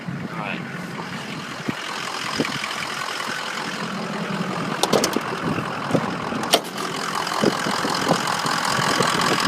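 A 2003 Ford F250 King Ranch diesel pickup idles steadily nearby, a continuous engine drone with a few sharp clicks and clanks partway through.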